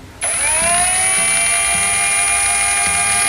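A Tekiro XV 20V cordless power tool spins up at speed 2 and holds a loud, steady high whine, with faint low pulses repeating underneath.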